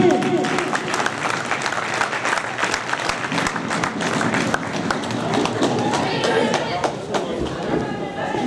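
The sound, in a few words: audience applause welcoming Irfan Shaheen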